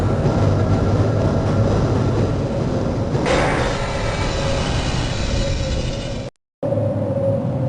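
Train ride in the video game Half-Life: a loud, steady rumbling roar of a rail car in motion, with a rising whoosh partway through and a brief dropout near the end.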